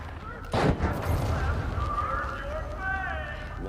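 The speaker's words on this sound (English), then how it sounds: "We're going to fire those cannons off." A single loud boom, like a cannon shot in the video game The Finals, bursts out early. It is followed by a steady rumbling game soundscape with faint voices underneath.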